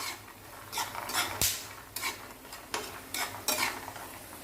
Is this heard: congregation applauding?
no